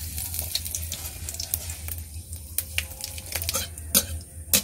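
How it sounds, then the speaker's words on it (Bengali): Chopped dried red chillies fry in a pan for a vegetarian tender-greens recipe, giving a steady, moderate sizzle under a low hum, with sharp scattered clicks and scrapes of a utensil against the pan. "শুকনো লঙ্কাকে কুচিয়ে দিয়েছিলাম, ভেজে নিচ্ছি ভালো করে।"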